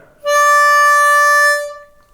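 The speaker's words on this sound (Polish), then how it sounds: "Czwarty kanał na wdechu, dźwięk D." A harmonica sounds D, drawn on the fourth hole, as one clean steady tone. It is close and strong, lasts about a second and a half, fades out smoothly at the end, and has no talk over it.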